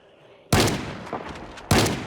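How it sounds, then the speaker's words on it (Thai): Two loud, close shotgun blasts in Project Zomboid, each a sharp boom with a short decaying tail, about a second apart, with a small thud between them. "ยิงใกล้กว่า NPC เยอะเยอะมากเลยเพราะว่าเป็นลูกซอง"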